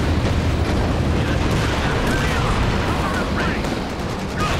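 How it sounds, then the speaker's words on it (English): Dense, sustained roar of battle in Company of Heroes, with a Katyusha rocket artillery barrage firing amid continuous explosions and gunfire, loud and unbroken throughout. "Wait, my Katyusha can fire."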